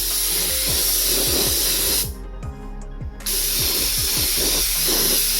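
Steady hissing spray of blue paint misted onto a 3D printed Robocop helmet, a continuous close aerosol rush that briefly drops out for about a second before resuming, with faint ticking knocks underneath.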